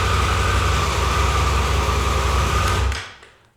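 A 2023 Triumph Tiger 1200 Rally Explorer motorcycle engine idles with a steady low rumble close by, then cuts off and fades to silence near the end.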